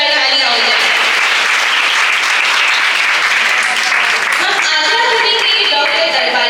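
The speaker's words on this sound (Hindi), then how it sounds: "एक बार जोरदार तालियां हो जाए।" An audience at an award ceremony in a girls' college hall breaks into loud, sustained applause, with dense clapping that stays steady throughout.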